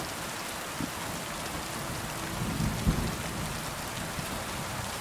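Steady heavy rain hisses throughout a medieval open-world RPG scene, with a low rumble of thunder swelling in the middle before fading, no voices present.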